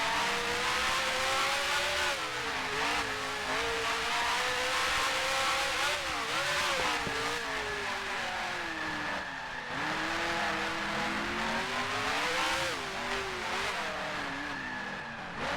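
A Formula 1 race car engine in a racing sim on the Jarama circuit screams steadily at high revs, its pitch rising and dipping through gear changes and corners, loud and continuous with no talk.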